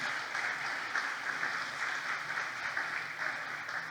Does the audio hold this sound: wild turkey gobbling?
no